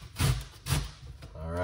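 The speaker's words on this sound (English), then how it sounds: "I'm just rubbing the grater on it like this." Two rough rasping strokes come as raw cauliflower is rubbed against a kitchen grater, close and brief, followed by a quieter scrape.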